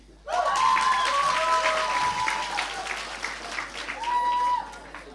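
An audience at a Bible competition bursts into loud, dense applause that holds for several seconds before easing off, with a few raised voices and a whistle-like tone mixed into the clapping.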